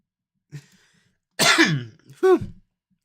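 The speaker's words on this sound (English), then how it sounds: "Don't cough that hard." A person coughs hard in two harsh, rasping bursts after a small throaty catch, loud and close in an otherwise quiet room.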